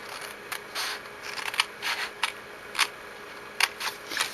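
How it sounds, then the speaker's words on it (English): Scissors cutting a small square off card stock for a note pad holder: a close, quiet series of crisp snips and short slicing strokes in an irregular rhythm. "And cut this little square completely off."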